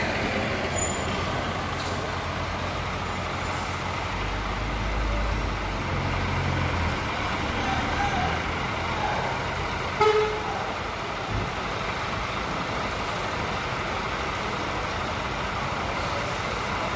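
Intercity buses pull into the Kertonegoro terminal in Ngawi, a steady engine rumble and traffic din running throughout, with a sharp air-brake hiss or horn toot standing out briefly near the middle.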